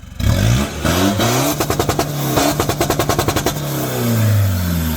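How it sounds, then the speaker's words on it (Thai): Isuzu D-Max pickup with a tuned diesel on stock injectors revs hard, then bounces off the rev limiter in a rapid stuttering string of sharp cuts before settling back to a loud idle, close and dominant. "ฟังเสียงเบิ้ลตัดกับควัน 60-80 ครับ"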